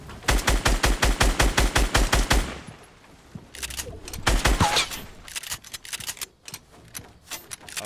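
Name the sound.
gunfire in Fortnite video game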